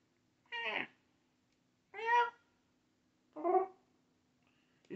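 Three separate cat meows spaced out over a few seconds, clear and close, with a faint steady hum between them.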